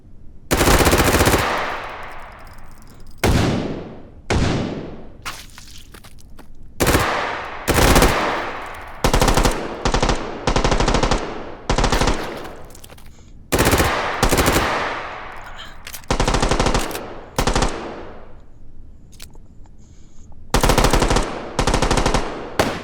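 Bots in the VR shooter H3VR fire repeated loud bursts of automatic gunfire, many sharp volleys separated by brief pauses and each trailing a short reverberant decay, with no talking.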